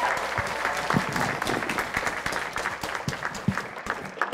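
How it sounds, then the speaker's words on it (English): Audience applause for student translators at a conference presentation on fostering multilingualism: dense, steady clapping from a room full of people, sustained for the whole stretch with scattered sharper claps standing out. "Student translators, let's give them another round of applause."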